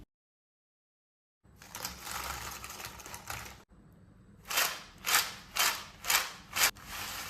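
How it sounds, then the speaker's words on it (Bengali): Crispy homemade fried potato chips are broken close up after a short silence: a stretch of rustling, then five loud, sharp crunches in a steady rhythm. "চিপসগুলো কত বেশি ক্রিস্পি হয়েছে আওয়াজটা শুনে নিশ্চয়ই বুঝতে পারছেন"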